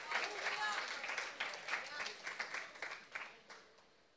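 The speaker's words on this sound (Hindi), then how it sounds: "तालियां बजाते हुए जोर से आने दे" Congregation at a church sermon clapping loudly, an uneven patter of many hands with sharper individual claps standing out, alongside a voice speaking over the crowd.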